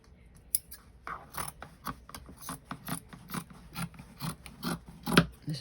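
Scissors snip and rasp repeatedly through fabric for a junk journal, a quick run of close, crisp cuts with small mechanical clicks and no talking.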